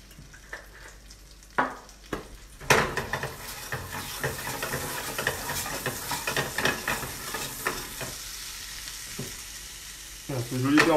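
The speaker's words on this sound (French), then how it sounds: "on va venir gentiment confire nos pommes de terre" New potatoes slowly confiting in butter, seasoned with salt and Espelette pepper, in a pan: steady close frying and sizzling with occasional stirring scrapes and clatters, rising louder near the end.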